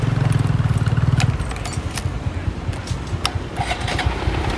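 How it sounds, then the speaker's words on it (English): A motorbike engine is started for a ride during Thailand's rainy season. It runs in a loud, close, rapid throbbing rhythm, then drops to a quieter, uneven idle with light background noise. "Once I sort out how to start my bike,"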